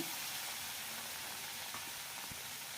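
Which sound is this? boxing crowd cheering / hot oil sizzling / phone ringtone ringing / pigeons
hot oil sizzling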